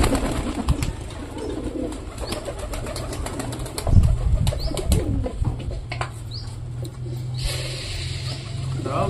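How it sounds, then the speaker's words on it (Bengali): Pigeons crowd around a food bowl, cooing softly near the microphone, with a burst of flapping wings midway and scattered chirps over a steady background hum. "এই যে দেখে ফেলেছি নতুন পায়রা"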